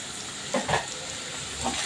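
Chicken with onion, garlic and ginger paste sautés in a pan, a soft continuous sizzle with a couple of brief stirring scrapes, fairly quiet and close.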